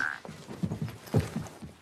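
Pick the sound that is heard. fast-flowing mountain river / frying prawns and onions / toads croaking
toads croaking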